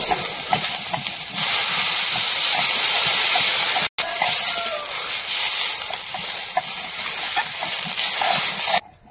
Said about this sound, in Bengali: ভালো করে কষিয়ে নিয়েছি, এবার জল দিয়ে দেবো